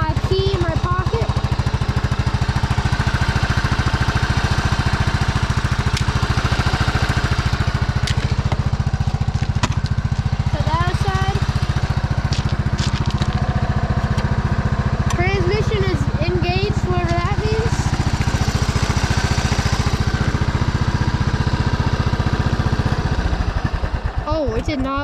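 An old, long-abandoned Cub Cadet riding mower engine runs steadily and loudly throughout, a constant low drone that cuts out near the end, with a voice talking over it.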